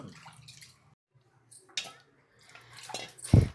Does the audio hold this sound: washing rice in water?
yes